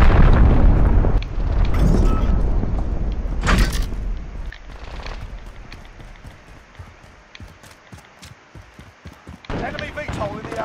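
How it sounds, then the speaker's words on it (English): Cruise missile strikes in the Call of Duty Warzone video game go off as loud, heavy booming blasts at the start, then rumble away while scattered game effects and talking continue. "Enemy cruise missile incoming!"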